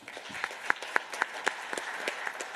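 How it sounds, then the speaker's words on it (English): Applause from a tournament crowd at the Texas Children's Houston Open golf event, scattered claps with distinct individual hand strikes, fairly faint and steady for a few seconds. "A round of applause for them."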